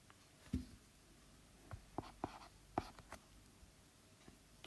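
Chalk or pen writing by hand during a maths lecture, a handful of sparse, short scratching strokes and taps spread across a quiet room, fairly faint with no talking.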